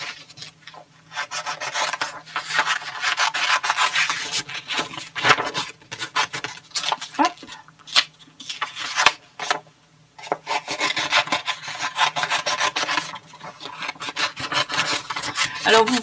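Scissors or a blade cutting through a warm embossing sheet, giving a steady close rasping and rubbing with short breaks, heard alone without talk.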